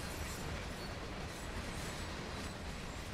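A freight train in Train Sim World passing by near Cumberland on the CSX line, a dense, steady rumbling roar of rolling wagons filling the whole clip without letup.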